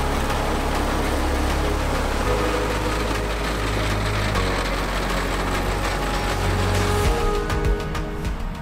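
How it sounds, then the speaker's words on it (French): A heavy Claas Xerion 4000 tractor engine drones steadily and loudly while stubble-cultivating a field, a constant low rumble with mechanical rattling and no voices. "Ce Xerion 4000 s'affaire à déchaumer ce champ."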